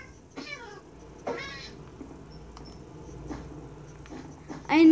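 Cat meowing in the video game Minecraft, several short separate meows spaced a second or two apart, close and clear, ending in a louder burst, with no talking.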